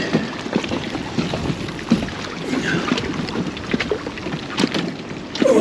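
Gusty wind buffets the microphone at a lakeside carp fishing spot in Oxfordshire, a continuous rough rushing with frequent louder gusts and no speech.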